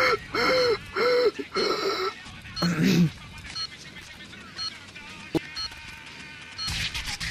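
A skater character in Tony Hawk's Pro Skater 4 breathes in a run of rhythmic, voiced gasps, then a heavier grunt, followed by a sharp impact and scattered game sounds.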